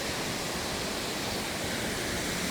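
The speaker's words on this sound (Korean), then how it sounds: "연산폭포예요." Yeonsan waterfall in the Naeyeonsan valley near Bogyeongsa temple roars as a steady, dense wash of falling water, unbroken and even throughout, heard from nearby with no voices over it.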